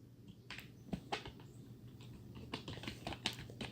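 Computer keyboard typing while writing HTML code, a quiet run of irregular key clicks with a few sharper taps, close and alone with no talk.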